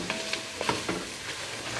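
Onions for chili sizzle in a hot pan while a utensil stirs them, giving a steady close hiss broken by a few light scraping knocks.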